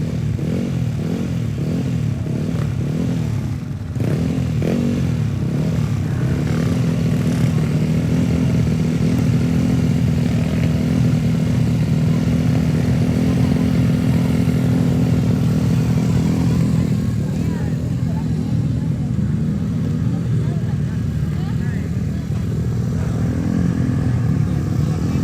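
Racing motorcycles idle and rev as they roll from the waiting area to the starting grid at a regional open road race on an airport runway in Tana Toraja, a dense continuous engine drone with a commentator talking over it.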